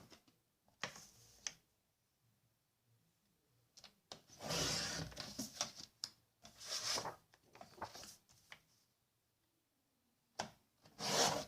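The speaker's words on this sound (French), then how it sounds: "je viens prendre un massicot, mes 2 chutes et je viens découper un morceau" A paper trimmer slices through cardboard scraps in several short bursts of rasping, scraping cuts, close and fairly loud with quiet pauses between strokes.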